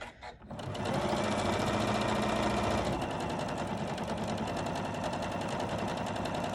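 A sewing machine stitches across a folded fabric strap, starting after a brief pause and then running in a steady, loud, close mechanical whir with rapid needle ticking throughout.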